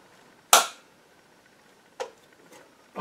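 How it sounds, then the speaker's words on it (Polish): A Brazilian-variant Madsen 1902 machine gun in .30-06 is dry fired, giving a loud, sharp mechanical snap followed by three softer clicks spaced about half a second to a second and a half apart, in a quiet room. "To można z niego suchy strzał oddać."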